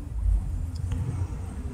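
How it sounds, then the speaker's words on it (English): A truck creeps slowly past on a city street, a faint low engine rumble that stays steady and distant, with soft background noise and no clear talk. "Please don't stop here, truck."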